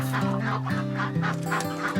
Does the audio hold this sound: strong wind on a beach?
no